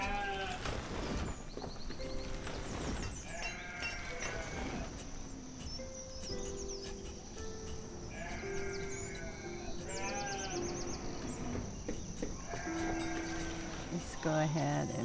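Sheep bleating in the town-building game Banished, several wavering bleats scattered across a soft ambient farm soundscape with faint insect chirps, at moderate distance and fairly quiet.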